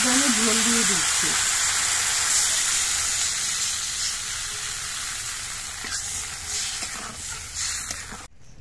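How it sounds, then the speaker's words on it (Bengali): Karamcha fruit stirred in hot oil with salt and turmeric, then broth poured in: a loud, close, continuous sizzle and hiss that eases slightly as the liquid goes in, with faint shuffling of the stirring and a brief tonal sound near the start. "করমচাগুলো তেলের মধ্যে একটু নাড়াচাড়া করে নিয়ে এর মধ্যে আমি ঝোল দিয়ে দিচ্ছি।"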